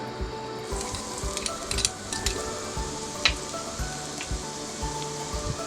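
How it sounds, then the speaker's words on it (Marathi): Garlic, ginger and onion sizzle in hot oil on full flame for mushroom fried rice, a steady close frying hiss with scattered pops and light scrapes of stirring, without talk. "तेल तापलेलं आहे, लसूण"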